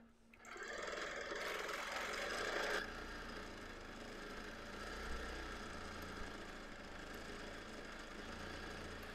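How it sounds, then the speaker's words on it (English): A Bernina sewing machine stitches straight-line quilting through fabric on a baby quilt, starting with a steady mechanical whir that runs loudly for a few seconds, then settles into a quieter continuous hum with a faint rubbing texture. "I haven't done a ton of straight line quilting on my Bernina yet."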